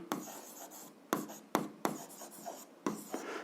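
A pen writes on paper while working an algebra exercise. Short scratchy strokes come in quick bursts separated by brief pauses. The sound is close and quiet, with no speech.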